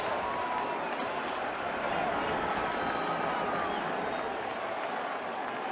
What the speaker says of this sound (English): another sarcastic round of applause from the fans